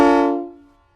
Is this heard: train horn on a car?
yes